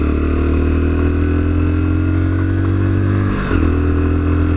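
A Lexmoto Assault commuter motorcycle hums steadily while being ridden, heard up close and loud with a constant low drone, then shifts briefly near the end before settling back to the same even tone.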